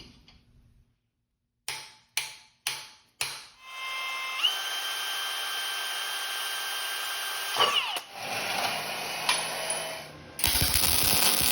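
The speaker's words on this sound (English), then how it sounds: "I'm going to drill a couple holes in the side of the pipe to plug weld through" A power drill revs in several short bursts, then bores steadily through steel pipe with a high metallic whine, pausing and restarting near the end; close and loud.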